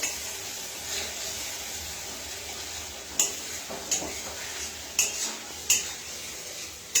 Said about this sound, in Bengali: এরকম করে কিন্তু আমি এটা একটু কষতে থাকবো।